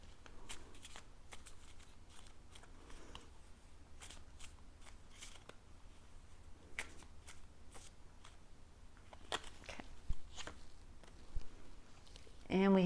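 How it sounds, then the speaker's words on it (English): Tarot cards shuffled by hand during a pick-a-card reading, heard as soft, rapid papery clicks and riffles in scattered bursts over a quiet background, ending in a louder flurry. "I just shuffle the cards."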